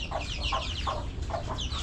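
Chickens clucking close by, a steady run of short repeated clucks with busy farmyard bird chatter in the background.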